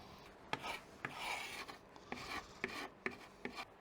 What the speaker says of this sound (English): So you rub it in, and it doesn't shrink much, which is quite nice.